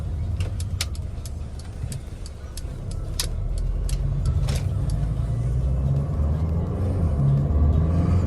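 Mercedes-Benz GLB driving on the road, a steady low engine and road rumble building slightly louder over time, with faint ticking and rattling in the cabin and no talk.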